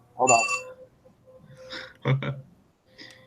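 A phone rings with short bright electronic trills in separate bursts, close and fairly loud, between bits of nearby speech.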